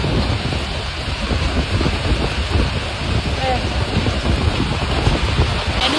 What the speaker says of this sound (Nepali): यत्रो ठुलो पानी पर्यो